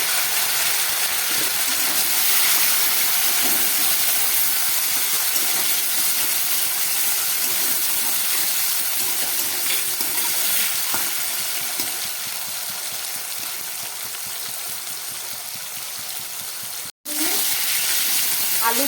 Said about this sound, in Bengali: এবার দিয়ে দিচ্ছি কেটে রাখা আলু আর টমেটো।